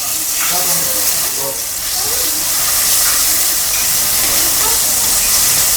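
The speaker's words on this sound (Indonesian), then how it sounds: "Kita tumis bumbu yang udah dihaluskan." Ground spice paste fries in hot oil with a loud, continuous hiss and sizzle that stays up close and steady the whole time.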